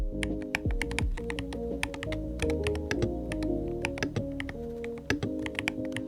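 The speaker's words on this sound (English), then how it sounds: "just listen to how satisfying the typing is" Rapid clicky keystrokes on a mechanical keyboard, steady and close, with sharp individual taps over a low thocky undertone.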